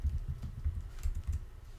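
Java code being typed on a computer keyboard, a quick continuous patter of muffled key presses in close, even succession, alone without talk.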